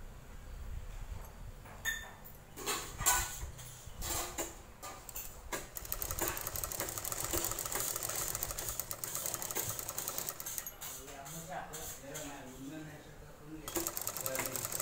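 A sewing machine stitches a puff blouse sleeve in short rattling bursts, stopping and starting, with someone speaking at moderate level between and over the runs.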